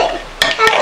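Purple slime made with Elmer's glue being stirred in a bowl, giving two brief wet squelching clicks over a soft, steady mixing texture, close up.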